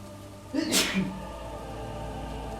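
One sharp sneeze rings out at moderate distance in a quiet room, a brief breathy burst followed by near silence with faint background hum.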